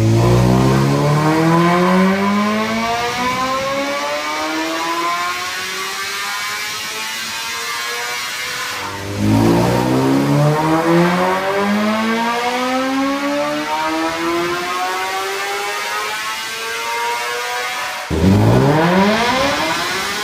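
A BMW S1000RR motorcycle engine on a dyno roars through three full-throttle pulls in a row, each one rising steeply in pitch to a high scream before cutting back, loud and close.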